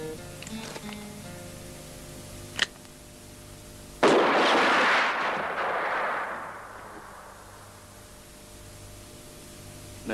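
A single loud gunshot rings out in a 1978 Romanian western, a sharp close crack with a long booming tail that fades over several seconds after a softer earlier pop.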